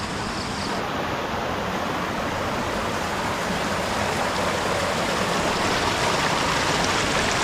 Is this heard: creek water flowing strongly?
yes